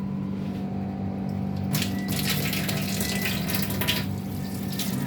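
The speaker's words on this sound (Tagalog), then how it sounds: "Hinugasan natin guys para matanggal yung dugo." Tap water runs steadily into a sink as milkfish is rinsed to wash off blood, with a constant hum in the background and splashing that grows louder as the fish goes under the stream.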